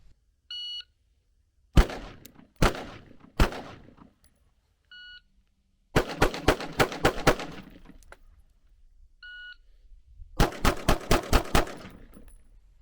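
A CZ P10 pistol fires in sharp, close shots, first a few single reports, then two quick strings of rapid fire, with short electronic beeps sounding in the gaps between shots.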